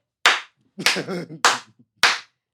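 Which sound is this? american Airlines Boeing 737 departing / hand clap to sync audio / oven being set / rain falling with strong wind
hand clap to sync audio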